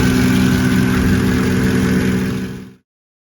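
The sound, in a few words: Mercedes ML55 AMG engine running, warming up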